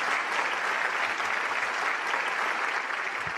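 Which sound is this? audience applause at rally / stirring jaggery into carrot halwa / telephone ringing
audience applause at rally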